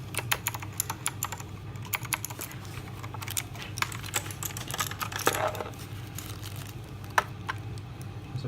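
Rapid, crisp clicks from an AULA F2012 mechanical gaming keyboard with Cherry MX Blue switches, steady close-up typing with sharp tactile clacks and occasional louder keystrokes, no voices.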